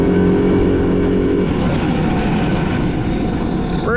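The engine of a 1970 Honda ATC US90 three-wheeler runs loud and close, with a clear shift in pitch about a second and a half in as it moves up through the gears.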